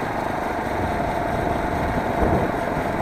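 A small four-stroke motorized bicycle engine, a Honda GX35 clone, idles steadily while coasting downhill, with a dense, buzzing low rumble and constant mechanical whir, close and continuous throughout.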